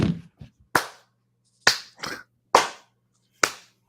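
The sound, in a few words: hands clapping in a played clip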